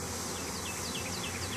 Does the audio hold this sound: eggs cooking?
no